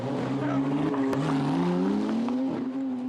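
McLaren race car accelerating hard out of the pit lane at Monza during a McLaren Trophy Europe race, a loud rising engine whine climbing through the gears, close and continuous.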